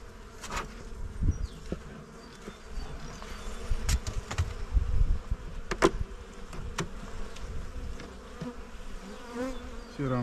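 Honeybees buzzing steadily around an opened beehive during frame inspection, a dense close hum with louder swells as bees pass near, no talk.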